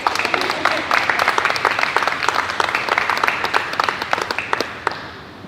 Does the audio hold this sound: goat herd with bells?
no